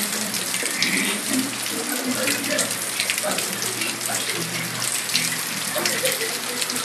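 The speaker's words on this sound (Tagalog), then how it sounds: "Guys, ang ulan dito sa Dasmariñas, Cavite." Steady, dense hiss of heavy rain pouring down close by in Dasmariñas, Cavite, loud and continuous with splashing water throughout.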